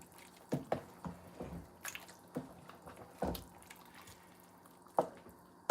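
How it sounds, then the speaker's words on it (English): Boiling water poured into a pot of chicken curry, heard as scattered drips, splashes and small liquid impacts at close range with quiet gaps between them. "I'm adding a bit of boiling water."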